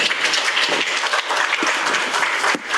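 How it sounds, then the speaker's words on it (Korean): An audience at a Korean book talk bursts into applause to welcome two of the book's co-authors to the stage, a dense and lively round of clapping that fills the room from start to finish. "두 분을 박수로 모시겠습니다"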